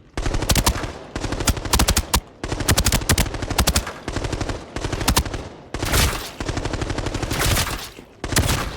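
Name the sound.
assault rifle firing with suppressor in video game Arena Breakout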